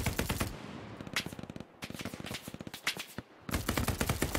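Sustained machine gun bursts in the online WWII shooter Hell Let Loose, fired from the US infantry side, rattling in rapid repeated volleys with brief pauses between bursts amid loud battlefield gunfire.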